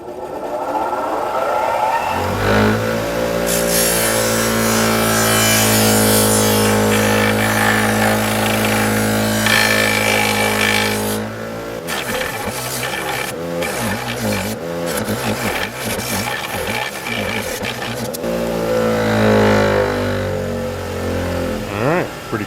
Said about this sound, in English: they definitely need to find a grinder and get cleaned up